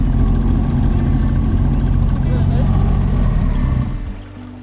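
A boat motor warming up rumbles loudly and steadily up close on Alaska's Coghill River, then its drone drops and fades toward the end.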